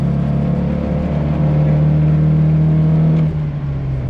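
A 1969 Mazda Carol at full throttle gives a loud, steady, droning engine note that holds one pitch and then eases slightly lower near the end, with no talking over it.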